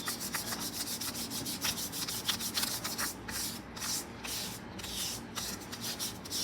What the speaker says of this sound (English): So just place this on my skin, and then I'm gonna quickly rub.